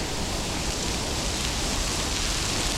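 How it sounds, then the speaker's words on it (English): Heavy rain falling at a Buddhist shrine in Tokyo, a dense steady hiss of downpour with no pauses and no voices. "Heavy raining."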